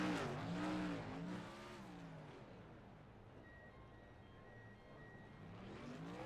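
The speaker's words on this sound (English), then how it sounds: "let's see if we get some burnouts out of the way here for Crampton" Race car engine revving hard with tire squeal during a post-race burnout in a sim racing game, loud and sustained at first, then settling into a steady rumble with a faint whine.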